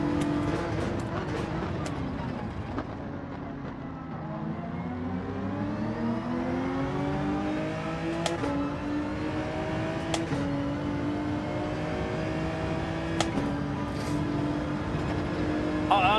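Race cars in the Gran Turismo 7 video game, with a Toyota Supra following close behind, whine through gear changes, their engine notes repeatedly rising and dropping in steady, continuous racing sound.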